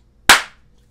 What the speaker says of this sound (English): let's all clap together in